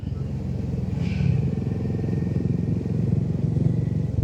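Motorcycle fitted with a Red Rooster exhaust and no dB killer idling and rumbling steadily nearby, a deep continuous throb with slight rises, heard alone.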